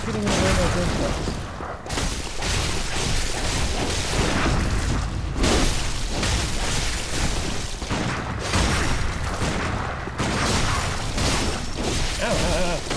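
Gunfire and heavy impacts in the video game Bloodborne ring out in loud, chaotic bursts, booming blasts and crashes packed together across the stretch with brief gaps between them.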